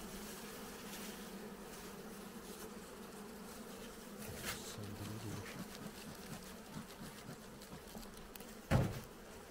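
Caucasian honeybees hum from an opened hive during autumn inspection, a steady, fairly faint droning buzz throughout with a brief knock or bump near the end and no talking.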